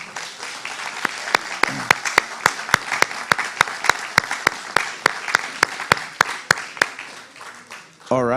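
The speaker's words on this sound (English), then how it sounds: "Can we get a quick round of applause for everybody?" An audience at a Multnomah Democrats candidate forum breaks into applause, a steady patter of clapping close by with a few sharp, distinct claps standing out at a regular pace, ending abruptly.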